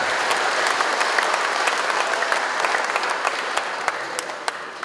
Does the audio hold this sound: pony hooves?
no